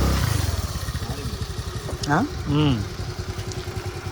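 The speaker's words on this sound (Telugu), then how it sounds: "ఇంజన్ బీటింగ్లో అయితే మార్పు వచ్చింది, మనం అది గమనించవచ్చు." A Honda Activa scooter engine idles close by with a steady, rapid beat, while a voice speaks briefly over it.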